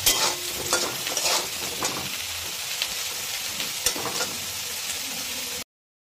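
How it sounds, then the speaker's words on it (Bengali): Potatoes frying in hot oil in a pan, left over from frying fish, for a quick Bengali fish dish: a steady, close sizzling hiss with bursts of crackle and occasional stirring clatter, no voices, ending abruptly. "ওই তেলেই ভেজে রাখলাম আলু"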